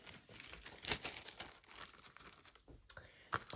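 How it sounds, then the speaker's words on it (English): Plastic bags rustle and crinkle up close in irregular bursts as garage sale items, including vintage costume jewelry, are pulled out for unpacking. "You can hear me rustling some bags here while we get all the items out."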